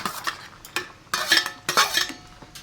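A spoon stirs lentils into a bottle gourd curry in a pot, with a few short scraping and clinking strokes against the metal. The strokes come in separate bursts, fairly close.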